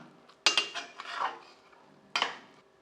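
Metal spoon scraping and clanking inside a pot while cooked chicken biryani is gently mixed after pressure cooking, two sharp clanks with softer stirring scrapes between them, close up.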